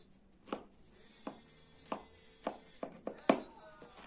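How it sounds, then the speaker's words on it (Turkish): Knife cutting through homemade baklava in a tray, six or seven sharp, distinct taps spaced about half a second apart, close and fairly quiet in a still kitchen. "Evet baklavamızı da kestik."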